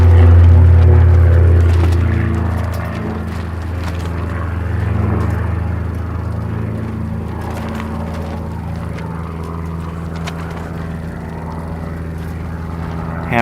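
An aerobatic airplane engine in a warm-up sequence, a loud continuous propeller drone with a strong low hum that dips slightly early on and then holds steady.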